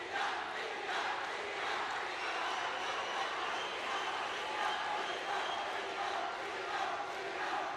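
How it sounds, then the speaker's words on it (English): A badminton arena crowd at a Commonwealth Games men's singles semi-final roars steadily for the whole stretch, a dense, sustained wash of cheering and noise filling the hall. "The crowd at either end responding to the drama and the contest on court"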